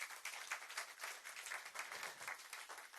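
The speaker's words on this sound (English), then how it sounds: "That applause is not presidential enough." Faint, thin applause from a modest crowd greeting a council chairman's welcome address, an even patter of clapping heard at a distance with no voices over it.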